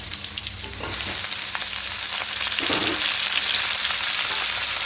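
Fried potatoes in a pan as chopped greens are tossed in, the sizzle jumping louder after about a second and then crackling steadily with scraping stirs.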